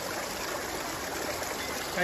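Clear, cold stream water near Ratanwadi runs in a steady close-up babble and trickle, continuous and moderately loud for the full two seconds, with no speech heard.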